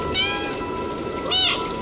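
Two short meows from a cat in the video game Stray, one near the start and a higher, brighter one a second later, over faint game ambience.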